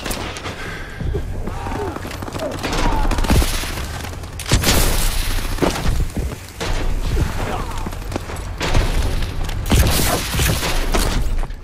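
Rapid automatic gunfire and explosive booms from the video game Call of Duty: Advanced Warfare multiplayer, loud repeated bursts with short pauses between them across the whole stretch.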